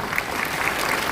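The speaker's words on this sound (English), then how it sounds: "please give her a round of applause." An audience applauds steadily for a board president at a formal meeting, a dense, even wash of clapping throughout the short stretch.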